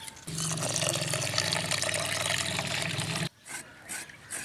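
Water runs steadily into a pot of rice for soaking, a loud close splashing pour that lasts about three seconds before cutting off, followed by a few faint quieter trickles.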